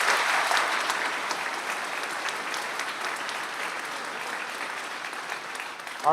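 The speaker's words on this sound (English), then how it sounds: "let's give Justin a round of applause" A church congregation at a Sunday service bursts into steady applause, a dense wash of clapping that holds evenly for several seconds before a voice cuts in at the very end.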